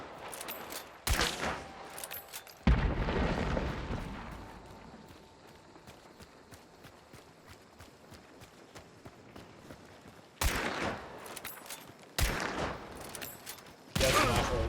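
Loud bursts of gunfire and explosive blasts from the Hunt: Showdown video game, an early burst then a long roaring blast that trails off, followed by several more sharp bursts near the end.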